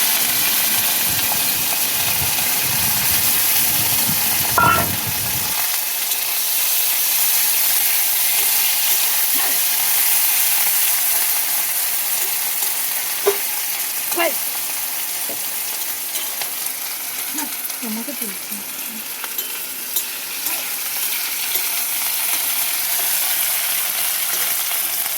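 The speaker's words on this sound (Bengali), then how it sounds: "এবার আমি চিংড়ি মাছ কটাকে ভেজে নেব।" Prawns frying in hot oil make a steady close sizzle that runs without a break. A heavier burst near the start is probably the prawns going into the pan. Light stirring clinks come now and then.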